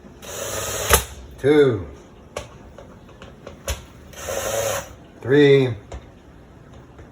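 Screws driven into a wooden lazy susan with a power tool, two short whirring bursts of driving at close range, separated by quieter handling sounds while a man counts aloud between them.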